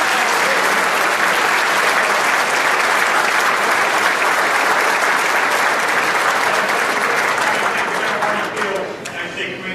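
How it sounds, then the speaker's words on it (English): Sustained, loud applause from an audience at a Marine Corps awards evening, honouring a band; steady and dense throughout, easing slightly near the end. "How about we have another round of applause for the great band from PEP"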